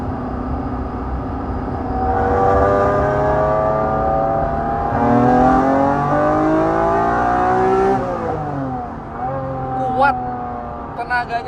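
The engine of a 1995 Honda NSX-R revs hard toward 8,000 rpm through its exhaust, the pitch climbing in long sweeps, then dropping off and blipping. It plays loud and close, with someone talking over part of it.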